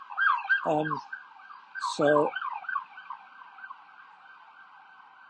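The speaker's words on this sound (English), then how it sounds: "Sorry, you're going to hear a siren." An emergency siren wails steadily across a New York City street, its rising and falling tone continuing throughout, with a brief spoken word and a couple of loud interruptions early on.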